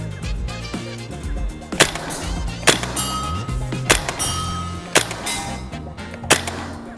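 Maruyama SCW9 Pro gas blowback airsoft submachine gun shooting 0.4 g BBs outdoors, a series of about six sharp, spaced single shots with crisp mechanical clacks and short echoes.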